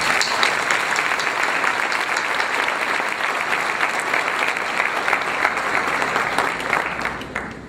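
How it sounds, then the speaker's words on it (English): A graduation crowd at Clinton High School applauds the class of 2015, dense sustained clapping from many hands filling the hall for several seconds, fading slightly at the end. "Let's give them a round of applause."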